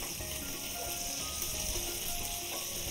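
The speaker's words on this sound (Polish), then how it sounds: "Obsmażamy to chwilkę jeszcze z tymi pomidorami suszonymi." Sun-dried tomatoes frying in a pan with chicken for a pasta dish, giving a continuous close sizzle with faint scraping and stirring clicks and no voices.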